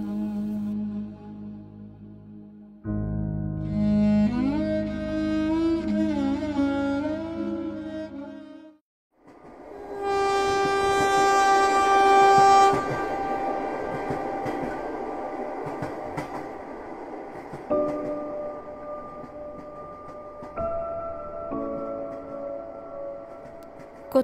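A passenger train bound for Chattogram rumbles along steadily with a loud, sustained rolling roar, overlaid by long tonal blasts that fit a horn, fading into a continuous rail drone.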